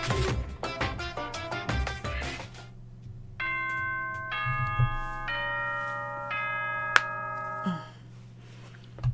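Ding-dong chime from the video game Danganronpa Trigger Happy Havoc, a clear sequence of bright bell-like tones ringing in a melodic pattern after a short run of plucked notes, alone with no voices.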